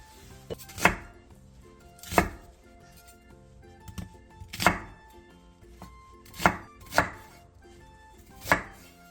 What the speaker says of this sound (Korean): 배 2분의 1개, 사과 2분의 1개, 양파 작은 사이즈 3개를 갈기 좋은 크기로 큼직하게 잘라주세요